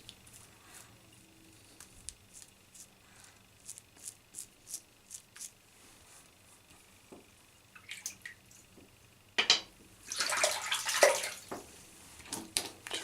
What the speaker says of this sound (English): Rinse that off with warm water.